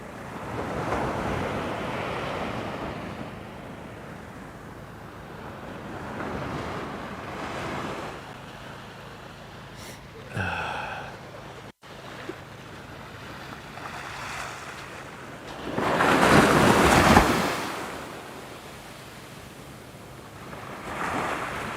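Ocean waves wash onto a beach at night as the tide comes in, a continuous rolling surf with swells building and breaking, one loud surge standing out, under light wind noise.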